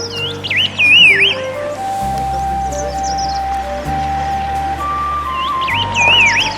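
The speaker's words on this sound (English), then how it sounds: "The air was alive with a symphony of melodious chirps, a chorus so alluring that it pulled me toward its source" Wild birds in East Sikkim chirp and sing, with bright warbling phrases at the start and end and sustained whistled tones in between, clear and fairly close over a steady background.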